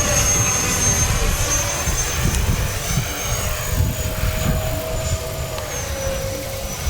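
An FMS Rafale 64mm RC jet with an electric ducted fan flies past, a steady high whine that rises and falls slightly in pitch over a rushing noise, moderately loud throughout.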